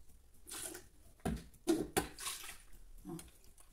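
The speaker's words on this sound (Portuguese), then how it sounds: "Agora você pega um pouquinho de água," Splashes of water poured into a blender jar while making melon-seed milk, with a few short sloshing bursts and clinks coming at irregular intervals, quiet and close.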